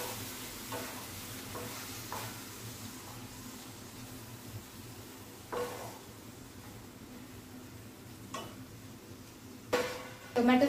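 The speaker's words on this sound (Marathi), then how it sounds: "टोमॅटो सुद्धा नरम पडेपर्यंत आपल्याला 1-2 मिनिटं परतून घ्यायचे।" Finely chopped, juicy tomatoes sautéing in a pan with onions, giving a soft steady sizzle broken by occasional spoon scrapes and clinks against the pan.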